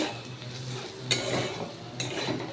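Potatoes seasoned with Maggi masala fry in a pan, giving a soft sizzle broken by a few quick metallic scrapes of a spoon against the pan, close by and fairly quiet with no talk.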